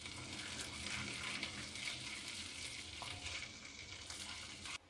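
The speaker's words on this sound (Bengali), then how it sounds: "এবার আমি একটু নেড়ে নেব" Chopped green chillies sizzle loudly in hot oil as they are stirred in a pan while chicken is cooked, a constant close frying crackle with faint scraping, cutting off abruptly at the end.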